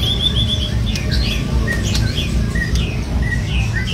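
Captive murai (magpie robin) songbirds sing steady, overlapping chirps and quick whistled phrases, close and lively, over a constant low background rumble.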